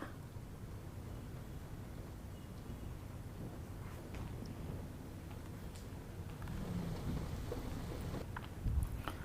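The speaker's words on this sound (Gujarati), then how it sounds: "ધોધમાર વરસાદ મુશ્કેલી લઈને આવ્યો છે" A steady wash of heavy rain in Thane, Mumbai, hisses throughout, broad and unbroken, with a few louder drops or knocks near the end.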